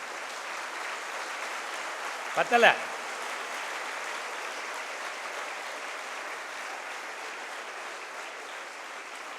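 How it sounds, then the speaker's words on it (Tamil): Students at a motivational speech event with about a thousand attendees applaud their teachers, a continuous dense roar of clapping with a brief louder burst early on as someone speaks a word. "அந்த டீச்சர்ஸுக்கு எப்படி கைத்தட்டணும்?"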